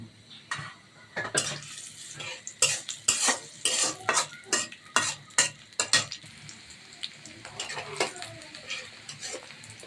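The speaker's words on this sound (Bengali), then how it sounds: "হালকা একটু পরপর লাড়া দিতে হবে, নাড়াচাড়া দিতে হবে, নাহলে পেঁয়াজ পুড়ে যাবে এক সাইড থেকে" Onions, chilies and garlic frying in oil in a wok (kadai) for fish chorchori, stirred with a metal spatula: repeated scraping, clinking strokes in an irregular rhythm over a steady, close sizzle.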